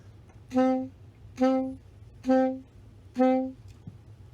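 Four short, detached staccato notes on a band instrument, spaced roughly 0.9 s apart, each clipped off quickly with silence between; played up close, moderately loud, with no voices.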